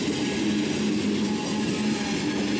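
A long freight train rolls past nearby, giving a steady, loud rumble and rail noise that holds even through the whole stretch, with no talking.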